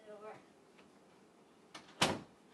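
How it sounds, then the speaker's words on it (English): A wooden door in Minecraft shuts with a short, sharp knock, preceded by a fainter click, while a voice speaks briefly beforehand in an otherwise quiet scene. "I closed the door."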